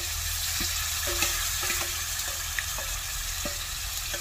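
Tomato paste sizzling in a pan over already-fried ginger, garlic and onion, a steady broadband hiss with occasional stirring scrapes and small pops, close and alone without speech.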